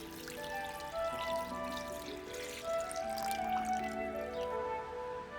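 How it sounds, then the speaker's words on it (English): Yanang leaf juice pours into a bamboo soup pot as a soft, steady liquid trickle with a few drips, close by, under gentle background music. "In goes the Yanang Leaves juices"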